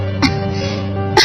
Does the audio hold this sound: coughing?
yes